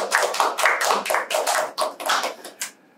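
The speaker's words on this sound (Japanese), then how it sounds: "はい、拍手ください。" A studio audience claps to welcome a guest director onto a Japanese film talk show, a dense burst of applause in rhythmic waves lasting about three seconds before fading out.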